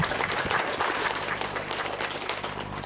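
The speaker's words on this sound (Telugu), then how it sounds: "ఒకసారి మనం గట్టిగా చప్పట్లు కొట్టుకుందాం." An audience at a spiritual youth gathering applauds loudly, a dense, continuous wash of many hands clapping at once, close and steady throughout.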